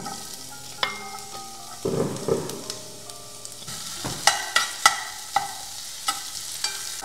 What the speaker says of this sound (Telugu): సన్నగా తరుక్కున్న వెల్లుల్లి, అల్లం 2 వేసుకుందాం అండి.